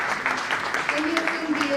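An awards ceremony audience applauds an honoree, quick scattered clapping throughout, with a voice and a faint steady tone over the claps.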